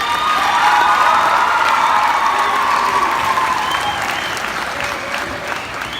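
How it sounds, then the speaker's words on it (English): A school pep assembly audience for the Hardin Bulldogs state championship cross country team gives loud, sustained applause with some cheering, the clapping gradually fading toward the end. "So give Dondi a round of applause."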